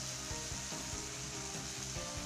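Spiced khichdi sizzles and fries in a pan while a spoon stirs it, steady crackling with soft scraping strokes repeating close by, no talk.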